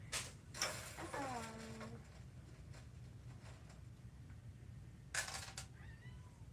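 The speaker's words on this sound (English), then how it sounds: "Oh, this cat is going to be the end of me." A cat meowing indoors, with a drawn-out, wavering meow near the start, a few quieter faint mews later and soft background noise in between.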